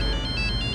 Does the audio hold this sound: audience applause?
no